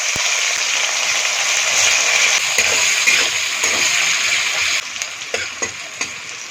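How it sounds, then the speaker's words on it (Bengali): Chopped onions go into hot oil, setting off a steady, loud sizzle that holds for several seconds before easing, followed by a few clicks of stirring near the pan. "কুচানো পেঁয়াজ দিলাম।"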